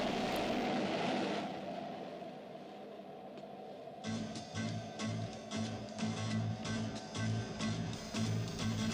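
Sky One, the interceptor aircraft carried on the nose of a submarine in the UFO television series, roars with a steady jet engine whine that drops away, then returns as a loud pulsing drone.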